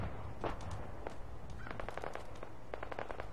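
Faint far-off shots in Fallout 4 pop in scattered bursts and rapid strings of cracks over a constant low rumble.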